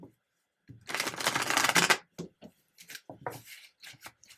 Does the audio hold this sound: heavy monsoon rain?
no